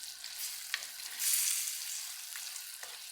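Grated coconut sautéed in a pan of Kongunadu-style chicken chinthamani with dried red chillies, a soft steady sizzle with a few faint scraping stirs, fairly quiet and with no talking.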